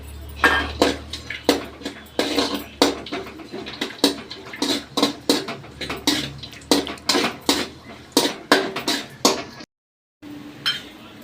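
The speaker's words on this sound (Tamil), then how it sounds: "இந்த முந்திரியை நல்லா செவக்க வறுத்து எடுத்துக்கலாம்" Cashews roasting in a pan for rava laddu, heard as a steady run of sharp metallic scrapes and clinks from a spoon stirring them, fairly close, with a short silent gap near the end.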